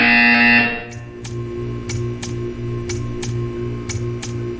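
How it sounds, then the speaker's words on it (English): In the Portal 2 video game, a steady electronic buzzer drones in regular pulses, about one per second, after a brief higher tone fades, with a faint ticking repeating alongside each pulse. "You will hear a buzzer."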